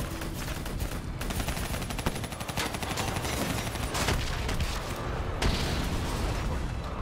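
Sustained heavy gunfire from an armored personnel carrier in Call of Duty: Black Ops III, dense continuous bursts with booming impacts filling the whole stretch, loud and close with no talk.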